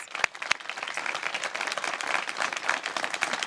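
Round of applause for the canine operations staff at a search team pairing ceremony, a fairly soft, even patter of many hands clapping from an audience, with a couple of sharper individual claps near the start.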